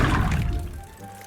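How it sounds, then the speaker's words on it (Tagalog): Water poured from a container onto instant soil in a bucket, a short close splashing trickle that fades within about a second. "maglalagay lang tayo dito ng konting tubig tapos talagang dadami na to"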